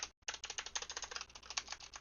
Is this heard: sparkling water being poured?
no